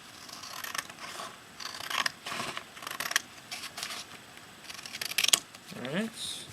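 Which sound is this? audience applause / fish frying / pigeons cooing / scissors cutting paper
scissors cutting paper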